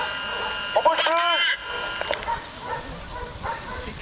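A gendarmerie police dog gives a few sharp barks and yips during a vehicle stop, brief and close, followed by softer rustling and background noise while people talk nearby.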